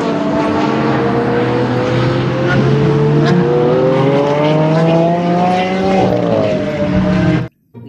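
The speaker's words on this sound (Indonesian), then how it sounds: "Yang ini mobil balap warna hijau." A green toy race car plays a loud electronic racing-engine sound, a continuous revving drone whose pitch climbs gradually before a short rev and an abrupt cutoff.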